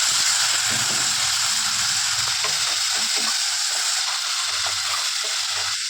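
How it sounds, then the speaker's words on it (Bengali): Spiced masala with chili powder and a splash of water, for a vegetarian banana flower dish, sizzles and hisses loudly in a pan while a spoon scrapes and stirs in steady strokes up close. "হালকা একটু লঙ্কার গুঁড়ো দিয়ে মশলাটা কষিয়ে দেবো তো হালকা একটু জল দিয়ে আবার কষিয়ে দেবো"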